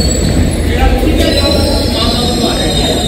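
A train at a London station gives a loud, close rumble with metallic rail noise and high squealing tones, while a person talks over it.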